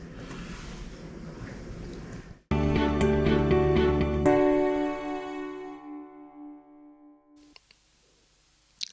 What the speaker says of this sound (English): I'm going to be rinsing these salmon sides off to get all the salt off